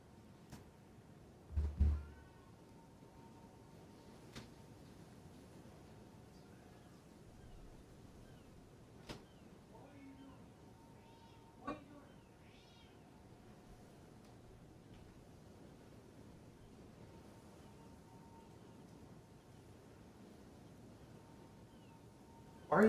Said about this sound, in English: Jack, can you hear them meowing?